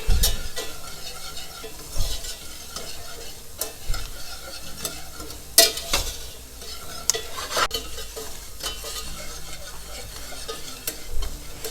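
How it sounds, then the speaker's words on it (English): Chopped onions sweating with salt in a pan on the stove, sizzling steadily up close while a utensil stirs them, with scraping knocks and light clinks of metal against the pan throughout. "A bit of salt to the onions. That'll help it sweat a bit."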